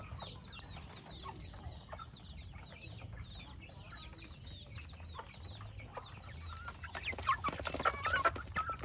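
Hens and small chicks cluck and peep during a rural morning feeding, many overlapping calls at moderate distance over a constant background hum, growing louder and busier toward the end.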